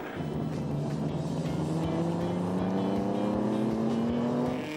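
A Porsche 911 race car roars on the Port Shepstone circuit, its engine note climbing steadily as it accelerates hard past the listener. The engine is loud and continuous throughout.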